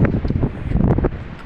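Strong wind blowing across a dam in the mountains beside a road toward Kaza, a steady broadband rush with low buffeting gusts into the microphone, loud and continuous throughout.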